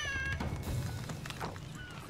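A cat meows in Lost Ark, giving a few quiet, short meows over faint background game sounds.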